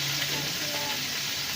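Chicken pieces sizzle in ghee on a hot tawa, a dense close frying crackle holding steady throughout the short stretch.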